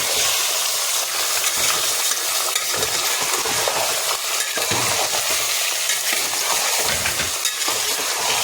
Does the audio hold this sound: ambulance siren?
no